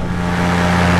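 A light aircraft engine runs at high power during takeoff, a loud steady droning hum with a strong tonal buzz and no other sounds.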